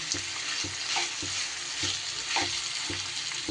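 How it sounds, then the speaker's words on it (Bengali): Chicken frying in a pan, a constant close sizzle broken by regular soft knocks of a stirring utensil roughly every half second, with no voices. "চিকেনটা আমার মোটামুটি এটা যতটা ফ্রাই করা দরকার করা হয়ে গেছে"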